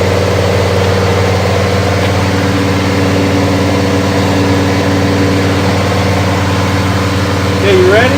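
A Jeep engine runs steadily at about 2,000 RPM during emissions testing, a constant loud mechanical drone lasting throughout with a brief squeaky sound near the end.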